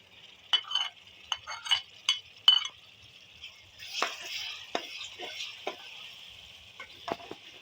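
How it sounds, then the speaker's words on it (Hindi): Tomatoes drop into a pan of fried red masala for a pumpkin and potato curry, giving a run of close clinks, stirring scrapes and soft sizzle in uneven bursts. "अब हम इसमें टमाटर शामिल कर रहे हैं"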